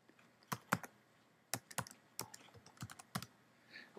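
Quick bursts of typing on a computer keyboard, uneven clusters of crisp key clicks at close range, fairly quiet, with no one speaking.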